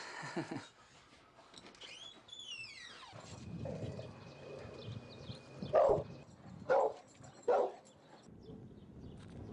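A dog whimpers and barks during a dog-meeting coaching session, with high whining glides followed by three distinct barks close by over a quiet background.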